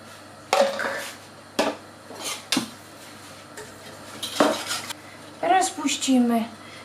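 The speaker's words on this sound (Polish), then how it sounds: "wymieszajmy tu nasze budynie. Do samego dna." A spoon scrapes and clinks around a pot as sugared milk with unsweetened pudding mix is stirred down to the bottom, several separate knocks and scrapes with quiet gaps between them.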